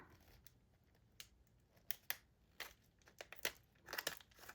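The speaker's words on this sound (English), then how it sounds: "I'm just going to trim this stuff off with my deburring tool" A deburring tool trimming the edges of a cured UV resin piece with embedded gel prints, giving irregular close scraping and crisp shaving strokes in short bursts with quiet gaps.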